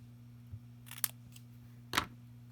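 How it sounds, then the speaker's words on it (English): Scissors snipping card stock for a handmade die-cut card: two short crisp cuts about a second apart, close and fairly quiet, over a steady low electrical hum. "I will give it a little snip"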